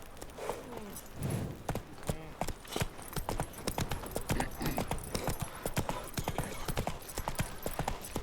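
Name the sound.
horse hooves clip-clopping, from the video game The Witcher 3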